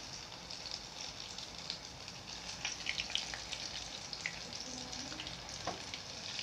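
Chicken bajji fries in oil over a slow flame, giving a steady, close, even sizzle with faint crackles and pops throughout and no talking.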